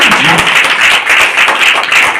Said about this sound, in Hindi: मैं जोरदार तालियों से आग्रह करूंगा आप लोग से कि दोनों का वेलकम करें।